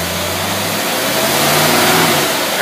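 A car engine with a Quadrajet carburetor held at high revs during a carburetor test, a loud continuous roar with a shifting harmonic whine, no speech.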